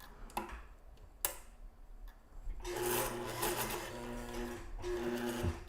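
Sewing machine stitching curves in a rapid mechanical run after a few separate clicks and taps, fairly close and moderately loud, with no talking.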